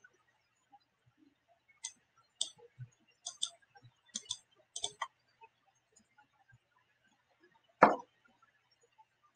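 A computer mouse clicks in short crisp bursts, some in quick doubles, spread irregularly across a quiet room, with one louder rustling thump near the end and no talking.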